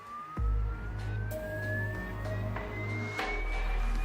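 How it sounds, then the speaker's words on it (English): Sinusoidal test tone from a loudspeaker aimed at a car inside a factory, a pure whistle gliding slowly upward in pitch over a low steady hum, with a few brief clicks and thumps. "the engineers generate a sinusoidal tone through a loudspeaker and direct it at the car at changing frequencies or pitch"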